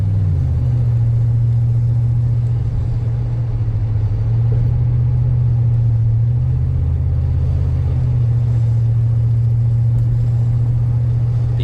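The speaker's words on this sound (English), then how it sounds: "You're gonna have a lot of wind noise, typical." A 1993 Ford F-150 Lightning pickup cruises along with a loud, steady engine drone and road rumble filling the cabin, wind noise blended into the constant hum.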